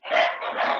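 A dog gives one short, fairly close bark or yip that swells and trails off in under a second, heard on its own.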